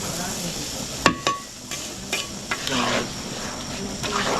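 Food is stirred in a cooking pan, with a few sharp utensil scrapes and clinks over a soft sizzle, close by.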